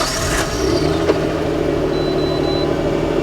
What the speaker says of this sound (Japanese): じゃあエンジンちょっと触れちゃいますね